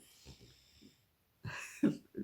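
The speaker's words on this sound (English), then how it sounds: "One of the babies is snoring." A baby snoring nearby, with soft wheezy, snorting breaths in a few short puffs, a brief pause, then louder raspy inhalations closing out.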